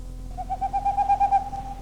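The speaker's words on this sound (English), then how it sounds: "I think the owl is a very misunderstood bird" An owl hoots in a steady run of about nine soft, evenly spaced calls at moderate distance, alone over a low background hum, the calls swelling slightly in the middle of the series.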